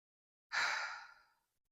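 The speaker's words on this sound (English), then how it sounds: "I want you to take a deep breath in." A single deep breath drawn in slowly, close and clear, lasting about a second before fading out, with no talking.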